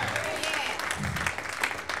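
An audience claps for about two seconds in a brisk, close burst of applause, with a hint of crowd voices mixed in.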